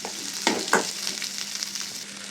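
Onions fry in oil for an onion karam chutney, giving a continuous close hiss and sizzle broken by a couple of louder spits or stirs near the start.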